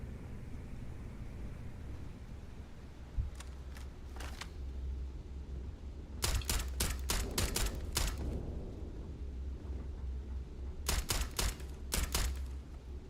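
Gunshots ring out in the sci-fi video game Starfield, a few scattered shots early on, then two quick bursts of rapid sharp cracks, crisp and fairly close over a low ambient hum.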